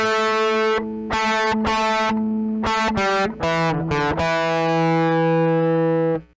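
An electric guitar plays a riff through a distorted effects tone, a string of short punchy picked notes with brief gaps, ending on a long sustained ringing note, loud and close with no talking.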